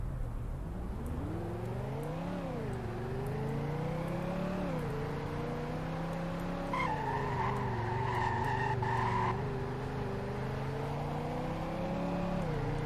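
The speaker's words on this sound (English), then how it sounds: "And here's what it sounds like to drive." A 1969 BullHorn Prancer TR driven in the Greenville video game, engine revving up and down through gears with rising and falling pitch, tires squealing and skidding at moments, steady and close without speech.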